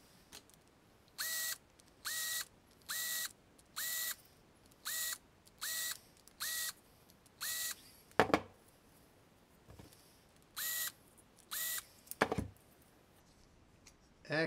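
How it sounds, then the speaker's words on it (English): Deburring drilled holes on an RV-7 elevator trim tab, a run of about a dozen short, evenly spaced whirring bursts from a deburring tool, close and fairly quiet, with a few clicks and handling knocks between them. "let's deburr some holes"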